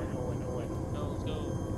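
A helicopter in Arma 3 produces a steady engine and rotor drone that fills the whole moment, loud and constant, under busy talk from players.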